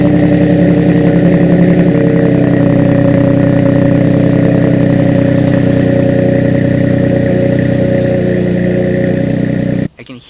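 Loud, steady exhaust note from a Ford F-150 with a 3.3L V6 and a FlowMaster 40 Series muffler, a deep, rough growl with a pulsing rumble that holds for about ten seconds and then cuts off abruptly.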